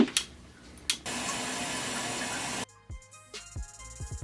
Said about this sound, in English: I bought a bidet, and if you don't know what that is, this is what it does.